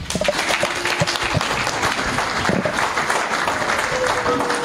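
Sustained applause from an audience at a political talk-show debate, dense and even clapping filling the room for several seconds, fairly loud and without speech over it.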